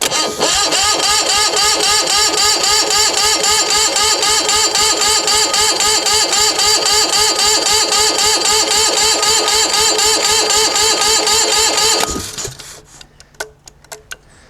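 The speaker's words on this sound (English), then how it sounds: "I'm going to give it full fuel and turn it over" A rusty Onan MDJE diesel engine cranked by its starter on full fuel, a loud, close, steady rhythmic churning for about twelve seconds without catching, then it stops and a few faint clicks and taps follow.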